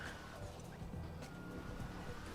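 Engine of the Gauntlet Hellfire muscle car in GTA V, fitted with a turbo, giving a steady, quiet, noisy drone with no talking over it.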